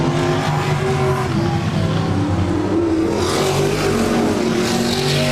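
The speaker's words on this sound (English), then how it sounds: "Boy, the modified's thundering across this front stretch." Modified race cars thunder down the front stretch during a short-track race, a loud continuous engine roar with overlapping revving from several cars, close and steady throughout with no talk.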